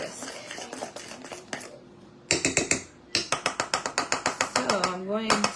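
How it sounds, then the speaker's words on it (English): Thick cottage cheese brownie batter being whisked in a bowl: bursts of rapid, rhythmic clicking and tapping of the whisk against the bowl, with brief pauses, and a voice speaking near the end. "I might be able to whisk it"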